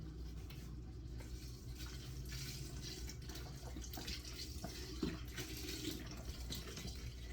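Low sodium vegetable broth pours from a carton into a pot on high heat, a steady, fairly quiet splashing stream that runs unbroken with no talk.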